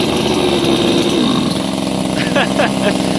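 A small one-handed AL-KO BKS 2625 T petrol mini chainsaw runs steadily with a buzzing two-stroke drone, close and continuous, while someone speaks over it.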